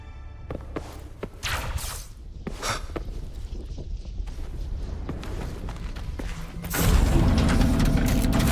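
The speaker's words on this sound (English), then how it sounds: "Now that power's been restored, the elevator should work." Heavy elevator machinery in the Wuthering Waves video game clanks and rumbles into motion: scattered mechanical thuds and ratcheting knocks over a low drone, then swelling into a louder, steady grinding roar near the end.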